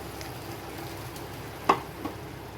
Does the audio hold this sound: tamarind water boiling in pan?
yes